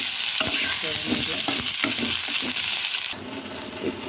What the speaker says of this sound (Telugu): ఇవి కూడా సిమ్లో పెట్టి మంచిగా ఫ్రై చేసుకోవాలి.